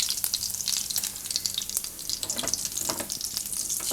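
Cumin seeds and asafoetida sizzling in hot oil: a close, continuous crackling hiss with small popping bursts and faint stirring scrapes throughout.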